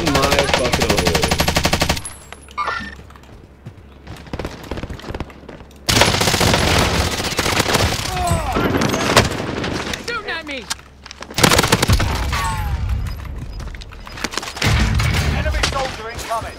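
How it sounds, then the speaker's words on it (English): Heavy automatic gunfire from a video game shooter with a Stoner and Sykov pistols, in loud sustained bursts that stop and start, while several voices talk excitedly over the shooting. "Shooting at me! Enemy soldier incoming!"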